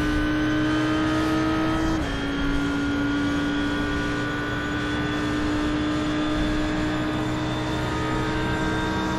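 Mercedes and Audi GT race cars in the iRacing video game at Road Atlanta, a loud steady engine drone with a pitch shift near two seconds, sustained throughout with no talk.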